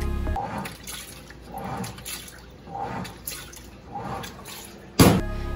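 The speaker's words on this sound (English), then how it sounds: "water will automatically pour in the washer" Water pours into a coin laundry washing machine in Japan in surging, rhythmic gushes, fairly close and loud, with a sharp clunk near the end.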